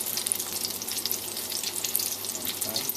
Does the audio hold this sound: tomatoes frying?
yes